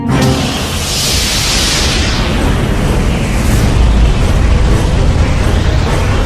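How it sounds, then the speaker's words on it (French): A Big Bang explosion sound effect in a science documentary about black holes roars as a loud, sustained wall of rumbling noise with a sweeping hiss near the start, filling all six seconds without talk. "L'univers se déploie dans une formidable explosion d'énergie et de matière."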